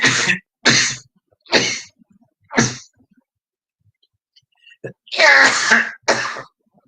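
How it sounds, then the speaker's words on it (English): Four sharp coughs come in quick succession, then a pause before a longer rough throat-clearing burst and one more cough, close and loud. "only coughing because it feels like there's something in my throat"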